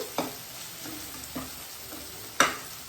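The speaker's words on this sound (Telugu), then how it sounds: "వేసుకొని ఇవి కూడా బాగా ఫ్రై చేసుకోవాలి." Salt and chilli powder frying in a pan for a prawn pepper fry, a soft steady sizzle with a few scraping stirs of a spoon, one sharper clack near the end, no talking.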